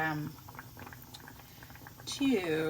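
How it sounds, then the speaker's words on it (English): Mushrooms sizzle and sputter in hot oil in a frying pan, a soft continuous crackle with scattered pops, while a person talks briefly at the start and again near the end. "The water from the mushrooms and the oil in the pan is making it sputter."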